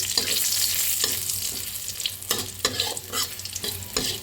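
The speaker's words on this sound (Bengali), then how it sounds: "শুকনো লঙ্কা আর রসুনটা ভালো করে ভেজে" Garlic and dried red chillies frying in hot oil in a pan, a loud steady sizzle broken by repeated scraping strokes of a spatula.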